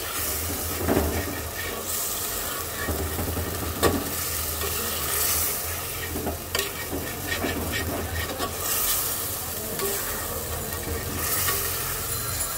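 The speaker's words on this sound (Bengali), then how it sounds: "দিয়ে দেব সামান্য পরিমাণে জল, মশলাটাকে আরো সুন্দর করে কষানোর জন্য।" Spice paste with potatoes and soybean chunks fries and is stirred in a pan, giving a loud, constant sizzling hiss with a low rumbling undertone and repeated scraping strokes every second or two, close up, no voices.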